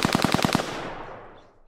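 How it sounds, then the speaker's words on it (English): A dry, unprocessed machine gun sound effect fires a rapid burst of about six evenly spaced shots, loud and close, followed by a decaying reverberant tail that fades over a second. "Let's listen to that machine gun with the plug-in bypass."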